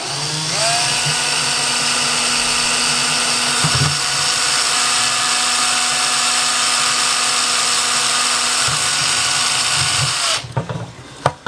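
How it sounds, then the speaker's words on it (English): A hand-held power drill whines steadily for about ten seconds at close range, drilling into the side of a container, its pitch holding level, then stops with a few clattering knocks. "grab a hand drill, and slowly but surely drill into the side of your container"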